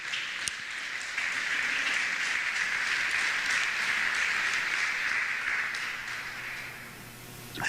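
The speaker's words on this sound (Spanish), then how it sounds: "Vamos a darle un aplauso al Señor." Congregation applauding during a church sermon, a sustained even wash of clapping heard from some distance, moderately quiet and steady, tapering slightly near the end.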